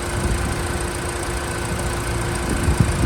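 A BMW X1 engine idles steadily and evenly at close range, with a low, smooth rumble and no talking.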